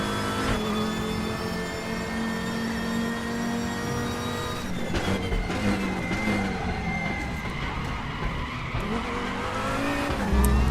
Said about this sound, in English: I love the way the tyre sounds are done.